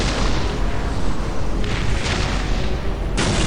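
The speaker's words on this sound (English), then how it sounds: "Shells landing." Artillery shells land and explode in the Dawn of War strategy game, a loud, dense rumbling barrage with several sharper bursts near the middle and end.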